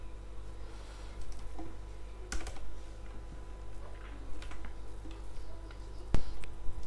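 Typing on a computer keyboard while writing Unity script code, a steady run of light clicks and key taps with a few sharper keystrokes, close and clear with no talk.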